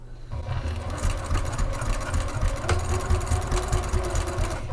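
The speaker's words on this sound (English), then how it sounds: "I'm simply stitching across the base, attaching the base to that front exterior panel." Sewing machine stitching across the base of a rain jacket, joining it to the front exterior panel at a 5/8 inch seam allowance, a continuous close, steady whirring hum with rapid needle rhythm throughout.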